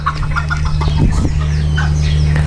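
Serama chickens clucking in a breeding pen, several close, busy bird calls over a steady low mechanical hum, continuous throughout with no talking.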